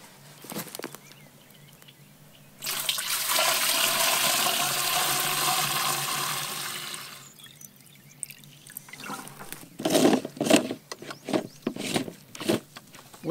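Liquid lawn fertilizer is poured into a handheld applicator as a steady splashing stream for several seconds; it stops, and then come some knocks, dribbles and handling noises.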